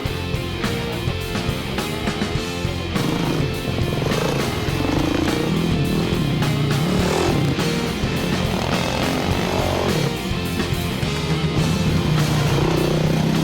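A Kawasaki KX450F motocross motorcycle is ridden on slow laps, its engine droning steadily and loud throughout with rising and falling revs, no talk over it.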